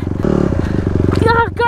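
A motorcycle rides along a trail with a rider missing the left foot peg, its engine loud and close with a rattling putter and a brief clatter.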